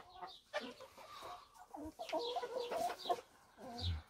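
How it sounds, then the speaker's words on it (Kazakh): Backyard chickens cluck in a series of short, varied calls nearby, fairly quiet, with a low thump near the end. "Осы біздің тауықтарымыз."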